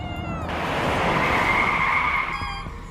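A car skids to a stop, a sustained tonal tyre squeal rising and holding for about two seconds before cutting off, loud and close in a dramatic scene.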